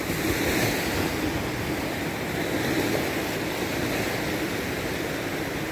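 Waves breaking on the beach at Maspalomas, Gran Canaria, in the morning: a steady broadband wash of surf with some wind noise, continuous and fairly loud.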